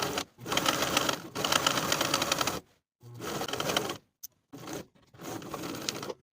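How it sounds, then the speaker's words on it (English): A sewing machine runs in several short bursts of fast, steady stitching with brief pauses between them while sewing pant pockets together from the top edge to the side seam, close and clear with no talking. "Now we'll sew the pockets together from the top edge to the side seam."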